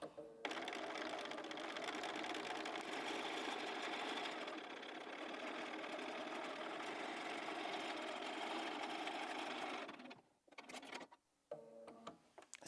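A sewing machine stitches quilting lines across a cushion in one steady, loud run of rapid needle chatter lasting about ten seconds, then stops abruptly, leaving brief handling noises and a voice.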